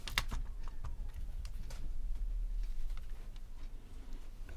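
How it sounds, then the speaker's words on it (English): Small loose plastic pieces rattle and tick inside a tipped Sony Walkman WM-FX373 cassette player, a series of light, close clicks and clatters. "You can hear things rattling around in there."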